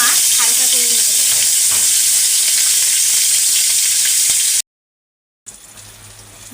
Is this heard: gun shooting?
no